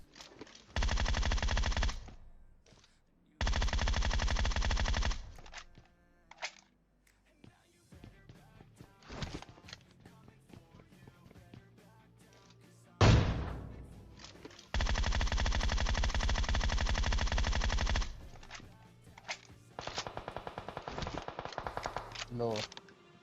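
Automatic gunfire in PUBG Mobile rattles in several long, loud bursts of rapid shots separated by quieter gaps, with one sharp single blast in the middle.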